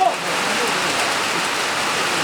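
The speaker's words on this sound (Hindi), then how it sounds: "अब तो बहुत हो गया बारिश।" Rain falls steadily on an open cricket ground during a match, a dense, even patter of drops on surfaces that continues without a break, with no voices.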